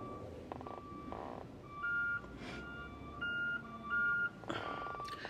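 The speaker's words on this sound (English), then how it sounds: "Me looking at the garbage truck backing up." Intermittent high electronic beeps from a reversing garbage truck, spaced a second or so apart, over a steady outdoor rumble of traffic and engine noise.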